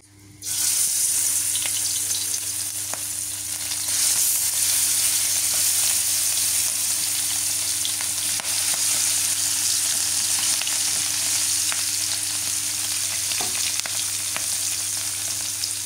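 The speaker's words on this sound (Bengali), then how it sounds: "সয়াবিন তেলটা আজকে ভাজি করবো।" Food fries in soybean oil with a dense, steady sizzle close by, continuous crackling and spitting that holds level throughout with an occasional stir.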